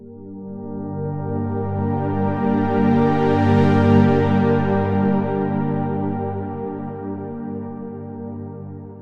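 Warm analog-style synth pad run through a chorus echo effect modeled on the 1980s Roland chorus echo, a sustained shimmering chord that swells gently and holds for about nine seconds, heard alone.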